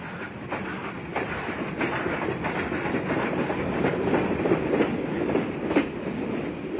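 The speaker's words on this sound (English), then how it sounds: "the most common type being these CC50 Class 2660s, designed and built by Werkspoor in Amsterdam in 1927" A Werkspoor-built CC50 articulated Mallet-type steam locomotive from 1927 hauls a train on a mountainous West Java railway, with a steady loud rumble and regular clickety-clack of wheels over rail joints throughout, no voices.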